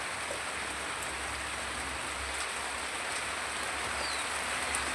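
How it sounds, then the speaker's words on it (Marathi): Steady, even rain patters continuously on a surface, a dense hiss with no voices. "वरून पाऊस चालू आहे"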